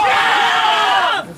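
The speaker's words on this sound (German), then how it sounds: "Willi jubelt wie bei einem Tor gegen Holstein Kiel, erste Pokalrunde." At a summer games show, a team lets out a loud, brief cheer as one player celebrates, a single burst of shouting voices that drops off sharply.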